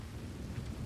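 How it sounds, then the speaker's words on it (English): Thunderstorm ambience in a Western open-world video game, Red Dead Redemption 2: a steady low rumble of thunder with rain hiss, even and continuous, no voices. "Looks like it's gonna be a stormy night."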